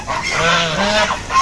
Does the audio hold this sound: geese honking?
yes